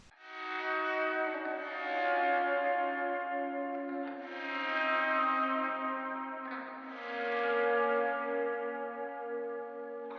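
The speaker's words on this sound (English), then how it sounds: "This is again a swell guitar" A swelling electric guitar in a pop track rises and fades in slow waves of sustained, bell-like chords, washed in reverb and echo, soft and alone.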